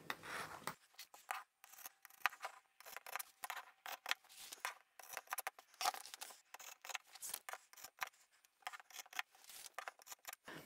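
Scissors snipping fabric for a large craft bag, a close, quiet run of rapid crisp cuts and slides in an irregular rhythm, alone without talk.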